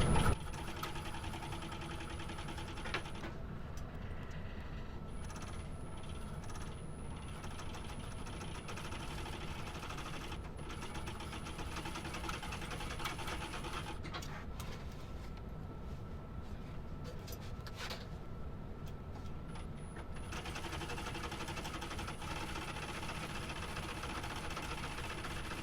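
Sewing machine running steadily at a 3.5 stitch length along a seam of a shoulder bag, a continuous mechanical whir with brief pauses and back-stitching, close and moderately loud throughout.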